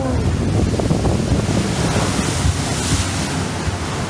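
Loud rushing water and heavy splashing surge continuously on a theme park water ride, a broad roaring wash with no pause.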